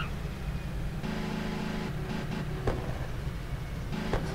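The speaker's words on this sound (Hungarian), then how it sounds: "durrog a kibufogó" A Nissan Silvia's engine rumbles at idle in a video game with a throaty exhaust, punctuated by a few sharp pops and crackles.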